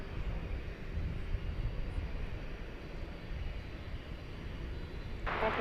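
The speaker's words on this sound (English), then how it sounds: "As we look off in the distance as Flight 384 jets off to San Jose," A Sun Country Boeing 737-800 departing at night from DFW Airport toward San Jose, heard as a distant, steady broadband jet roar that holds at a constant low level with no one talking.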